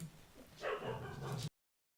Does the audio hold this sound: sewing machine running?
no